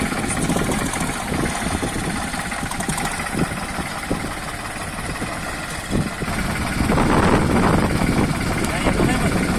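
A New Holland TT4 tractor engine runs during a brake test, a steady mid-pitched diesel drone close by that grows louder near the end.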